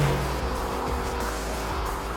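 Engine of a Mercedes-AMG GT R sports car, a steady low rumbling drone held at an even level through the short stretch, with no voices over it.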